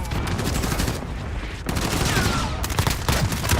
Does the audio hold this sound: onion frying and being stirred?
no